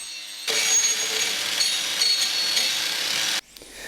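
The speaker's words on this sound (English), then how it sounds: "The edges had quite a few sharp areas, so these were removed using the grinder and a wood carving bit." A grinder fitted with a wood carving bit rasps loudly against the sharp edges of a wooden bed headboard in one sustained, close burst of about three seconds, then cuts off abruptly.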